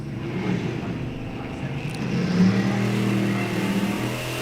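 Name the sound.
81 Malibu and 94 Camaro drag racing, shifting gears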